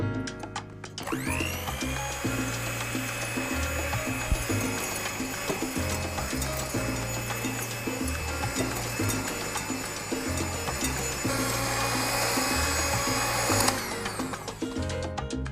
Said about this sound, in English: we're gonna whip them till we have a soft peak